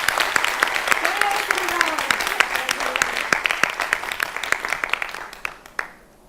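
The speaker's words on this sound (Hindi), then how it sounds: "एक बार तालियों के साथ मेरे इस प्रयास का स्वागत करें।" Studio audience applause during a televised Hindi debate show, a dense burst of clapping that builds and holds steady, with faint voices underneath, then thins out and stops abruptly near the end.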